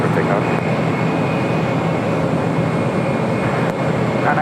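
Steady, loud broadband jet roar of an airliner at LAX during takeoff on runway 25 right, continuous and fairly near, with faint talk over it.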